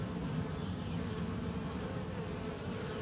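Honey bees buzz steadily across hive frames strung with fishing line, a dense, continuous close-up drone with no pauses, holding an even loudness throughout and no voices over it.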